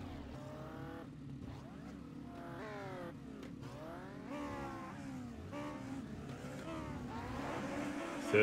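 Several autograss race cars lap a dirt track in a Class 8 heat, engines revving and pitch sweeping up and down continuously as they pass, loud and steady throughout with a burst at the end.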